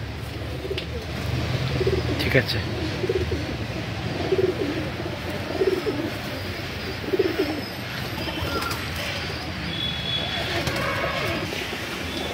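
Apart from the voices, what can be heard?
Madrasi pigeons cooing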